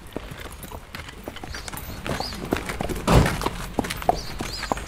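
Hooves of a young, anxious quarter horse on a working ranch clip-clop in a loose, irregular rhythm of sharp taps, with one heavier thud partway through, all under a steady outdoor background.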